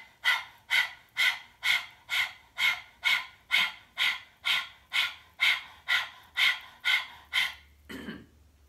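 A person does breath of fire yoga breathing with the tongue out, panting like a dog in about sixteen fast, forceful, evenly spaced huffs, close and alone, ending in a softer exhale.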